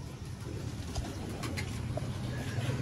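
Soft, low cooing of a female Sialkoti pigeon under a constant background hiss and murmur, faint and brief.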